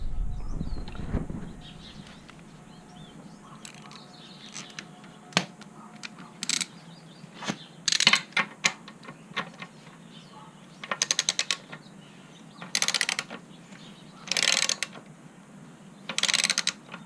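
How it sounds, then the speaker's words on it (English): A torque wrench set to 75 foot-pounds ratchets as it tightens a motorcycle's axle nut during a chain adjustment. Several short, close ratcheting bursts are separated by quiet pauses and lighter clicks and handling noises. "And then I'm gonna torque the axle nut."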